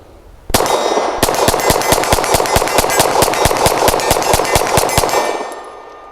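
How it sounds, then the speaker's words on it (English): A Canik SFx Rival S pistol fires PMC Bronze rounds in a rapid string of about twenty close, loud shots, each answered by a ringing clang from a steel target, the ring fading after the last shot. "I'm going to ideally hit the steel, but really burn it down so we can watch this mag work"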